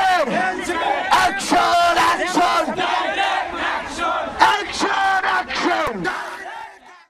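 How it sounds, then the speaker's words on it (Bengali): Crowd at an NCP political march chanting slogans, a leader's shouted call answered by massed voices in rhythmic, loud yelling bursts, continuing for several seconds before tapering off at the end. "সার্জিস আলম তিনি কিন্তু স্লোগান দিচ্ছেন"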